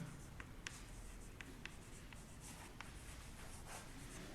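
Chalk or marker strokes on a classroom board as an equation is written during a physics lecture on current electricity, a steady run of soft scratchy taps and short squeaks with no talking.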